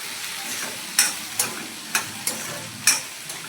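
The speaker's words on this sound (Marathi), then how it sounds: "तेलात फ्राय करू आपण भेंडी" Okra fries in oil seasoned with mustard seeds and cumin, a low continuous sizzle broken by five or six sharp spatula scrapes and taps against the pan at irregular intervals.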